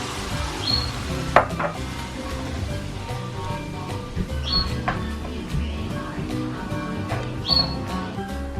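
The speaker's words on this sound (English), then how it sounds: "While our meat cooks," Ground meat with taco seasoning and water sizzles steadily in a pan for chalupas, a close, continuous crackling hiss broken by a few sharp utensil clicks and scrapes.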